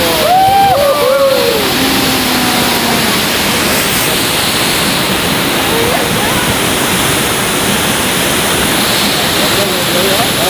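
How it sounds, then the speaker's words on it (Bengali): Chitrakote waterfall roars up close from a boat as a dense, loud, continuous wash of falling water, with voices faintly audible under it near the start. "একদম ওয়াটারফলে কাছে চলে এসেছি একদম"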